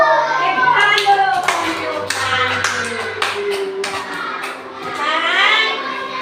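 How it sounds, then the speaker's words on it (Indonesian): Children in a classroom clap their hands in a burst of sharp claps, mixed with overlapping young voices and chatter, fairly close. "Tepuk tangan dulu."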